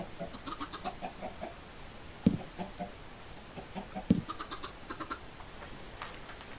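Minecraft chicken clucks repeat softly through a quiet ambient bed, with two sharper, louder squawks standing out midway.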